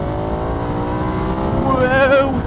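A 2019 Ducati Diavel 1260 motorcycle engine pulls hard in third gear, a loud close engine drone rising steadily in pitch as revs climb from about 4,000 toward 5,000 RPM, with a rider talking over it.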